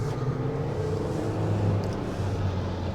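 Steady engine drone from a 2023 Jeep Wrangler Rubicon with the Pentastar engine, driving up a steep off-road hill in two-wheel drive on large off-road tyres: a continuous low hum with no gaps.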